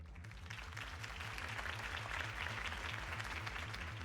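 A crowd in the video game Batman: The Telltale Series applauds steadily, dense clapping that builds slightly and holds, sounding somewhat processed, over a low rhythmic musical pulse.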